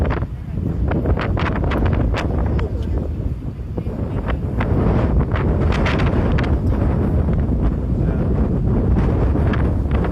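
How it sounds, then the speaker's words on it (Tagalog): Strong wind buffets the microphone in a continuous loud roar with gusty rumbling throughout. "So windy."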